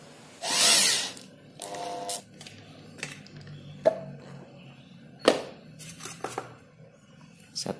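Roof rail fittings being tightened on both sides of a car, with a brief buzzing burst from a power tool, short whirring bursts and scattered sharp metallic clicks and knocks at close range.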